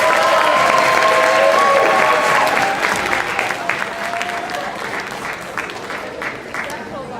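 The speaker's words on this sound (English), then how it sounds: "A round of applause for Jay Tice." A crowd claps loudly and steadily at a school poetry recitation event, the applause fading a little toward the end with some voices mixed in.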